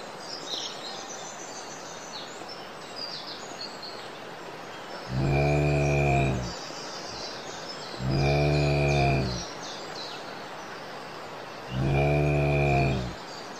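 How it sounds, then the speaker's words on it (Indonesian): Cows on a farm in the Sakura School Simulator video game, three long low moos spaced a few seconds apart over a faint background of birds and insects, no voices. "Aku mau belajar memerah susu sapi."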